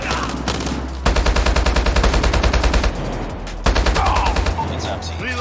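HBR rifle in Call of Duty Mobile firing two loud, close, rapid automatic bursts of about two seconds each, separated by a brief pause, over faint game background.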